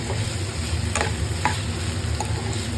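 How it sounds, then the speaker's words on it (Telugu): Tomato curry with onions being stirred in a hot pan, a steady close sizzle with occasional spoon scrapes and taps against the metal, with no voices. "ఒకసారి మళ్ళీ కలిపేద్దాం కర్రీని"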